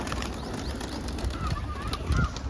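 Pigeons just washed and treated for feather pests, with soft cooing and brief wing flaps over a steady noisy background, fairly faint and close by.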